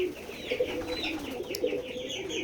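Pigeons coo in soft, repeated low calls, several birds overlapping at close range, with faint higher chirps in the background.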